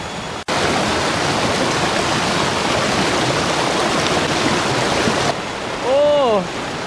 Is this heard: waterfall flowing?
yes